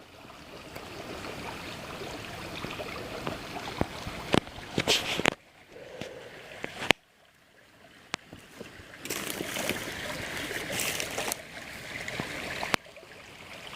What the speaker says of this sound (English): Love the sound of a babbling brook. Nice, relaxing stream.